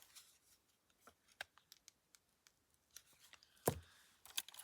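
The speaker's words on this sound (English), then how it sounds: "I need to cut this out." Scissors cut fabric for slow-stitching embroidery, producing a string of close, quiet snips and crisp clicks at an uneven pace, with a louder cut near the end. No talking.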